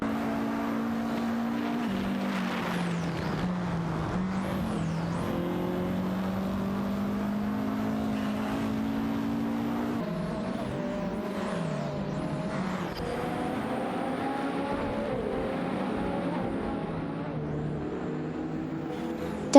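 Race cars in an AI-driven racing video game, engines droning and shifting pitch continuously as two cars push hard side by side, a steady loud roar with no talk.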